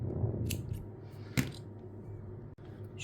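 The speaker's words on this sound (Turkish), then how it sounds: "Şuradan da uzunca bir ip kesiyorum." Scissors snip through a long length of yarn for a crochet craft, with a couple of soft, quiet cuts heard close up in an otherwise hushed room.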